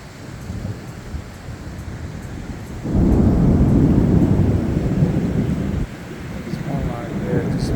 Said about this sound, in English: lightning strikes all over the place